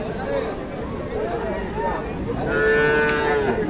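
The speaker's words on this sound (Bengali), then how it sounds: "আমরা দেখি আরো কিছু গরু রয়েছে, একটু ক্রস জাতের গরুগুলো আমরা একটু দেখি।" Cross-breed cattle at the Khochabari livestock market in Thakurgaon, with a long, loud moo near the end rising over steady crowd chatter and a busy background of market noise.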